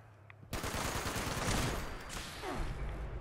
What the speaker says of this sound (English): Ow, laser gun.